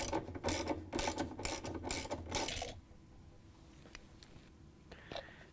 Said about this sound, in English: we have to remove the bolt that holds it in place. So grab your 7/16 inch socket